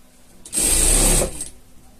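A sewing machine runs one short continuous burst while stitching the seams of a fabric pet poncho, loud and close, starting and stopping abruptly with no talk.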